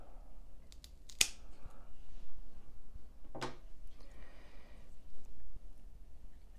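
Stem of a Monstera Albo Borsigiana cut close to the base, two sharp, quiet snips a couple of seconds apart, close up against near silence.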